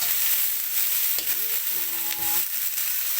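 Fried tofu sizzling in a pan as seasoning is added and stirred in, a steady hiss of hot oil throughout with a few soft scraping stirs near the middle and no talking.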